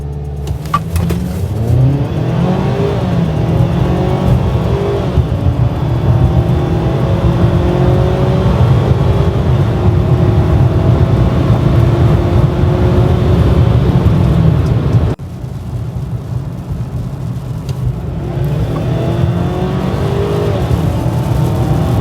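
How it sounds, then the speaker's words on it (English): A 2022 Ford Maverick truck accelerates hard through 0 to 60 and 0 to 80 mph runs and a pull from 30 mph. Its engine roars loud and steady from close by, with a brief drop in level near the end. "A 0 to 60, well, 0 to 80, and then a pull from 30 miles an hour"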